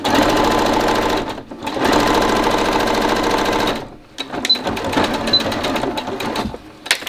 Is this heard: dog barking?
no